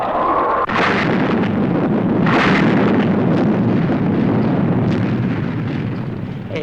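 Missiles fire and explode in a Thunderbirds episode: booming blasts followed by a sustained roaring rumble, with two sharp bursts standing out near the start, loud and close.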